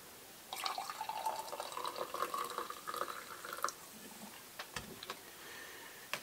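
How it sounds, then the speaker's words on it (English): Coffee poured from a French press into a cup, a soft trickling, splashing stream for about three seconds, then a few faint drips and small clinks, all quiet and close. "we are going to pour the French press"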